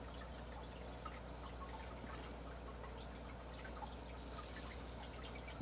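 Liquid draining down through lightweight potting mix for begonia and petunia cuttings, a faint steady trickle with soft drips, low and continuous throughout.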